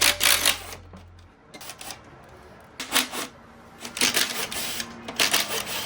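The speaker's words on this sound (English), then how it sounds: "we're gonna use a 4mm Allen and the impact ratchet to take them off" Impact ratchet with a 4mm Allen bit removing cover bolts on a Throne SRPNT, several loud rattling bursts of hammering separated by short pauses, close up, with no talk.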